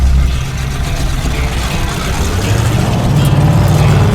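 A 1937 Pontiac on the move with its header mufflers dragging, a loud steady low engine rumble and drone that rises slightly toward the end, with faint scraping underneath and no talk.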